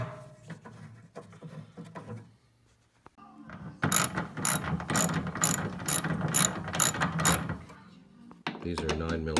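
A ratchet loosens the 9mm bolts on a Porsche 914 gas tank, giving rapid, sharp clicking bursts at a steady rhythm up close. Quieter handling and shuffling noises come before and after.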